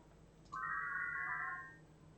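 Synthesized sine tones built in Pure Data, shifted up by 1000 Hz so they sound slightly out of tune, enter after half a second as a bright cluster of sustained pure tones, then fade over about a second with no talk.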